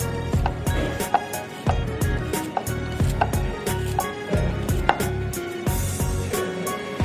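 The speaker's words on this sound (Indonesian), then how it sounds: "kita kasih bawang putihnya. Diiris supaya dia halus." A knife slices garlic rapidly on a cutting board in quick, steady strokes, close and crisp, with no talking.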